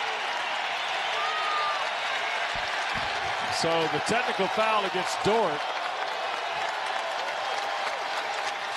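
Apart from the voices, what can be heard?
basketball crowd applauding a career high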